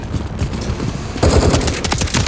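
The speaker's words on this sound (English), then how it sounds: "There's enemy fire!" Loud automatic gunfire rattles through a Call of Duty: Modern Warfare III campaign mission, with dense rapid bursts of close shots that grow heavier partway through.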